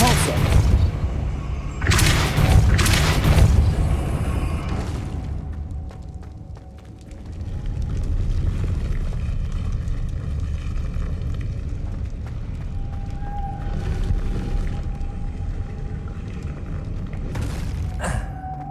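Booming Depulso spell blasts in Hogwarts Legacy, several heavy whooshing bursts in the opening seconds followed by a rumbling, roaring bed of effects and another burst near the end.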